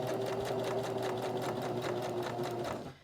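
A sewing machine stitches around the seam of a reversible placemat, running in a fast, even stream of rapid needle strokes before stopping abruptly near the end.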